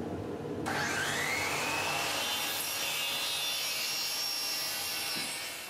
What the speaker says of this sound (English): I'm drilling a 7/16 inch hole into the end caps here so that I can then tap it for the brass fittings.